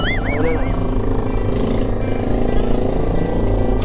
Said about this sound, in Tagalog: Ano ba naman yung motor na yan?